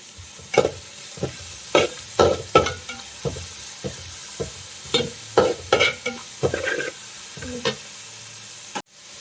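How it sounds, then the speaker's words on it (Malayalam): Onions sautéed with salt in a pan for a Kerala fish curry, with a soft background sizzle broken by repeated sharp scraping stirs of a spatula, close and clear with no talking. "ഇനി ഇതും നന്നായിട്ടൊന്ന് നമുക്ക് വഴറ്റിയെടുക്കാം."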